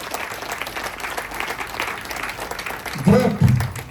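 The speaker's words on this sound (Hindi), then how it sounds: "जोरदार तालियां।" An audience at a networking gathering claps in a brisk burst of applause, with a voice speaking over it and a couple of louder thumps near the end.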